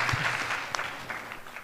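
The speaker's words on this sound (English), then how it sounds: "Let's give her a round of applause" An event audience claps for a speaker in a short, quiet burst of applause, scattered and fairly distant.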